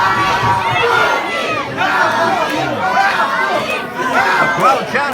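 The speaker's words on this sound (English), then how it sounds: "The crowd chanting Bobby." A large wrestling event crowd chants a wrestler's name together in a loud, rhythmic roar, voices swelling and dipping continuously throughout.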